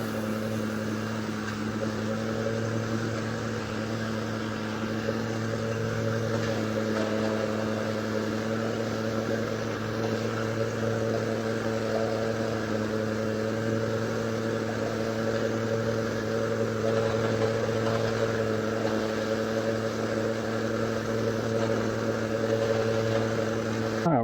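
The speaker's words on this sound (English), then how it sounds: "So let's get the weed eater," A gas weed eater running steadily, cutting through thick grass on a farm, with a continuous engine drone at close range for the whole stretch and no talk.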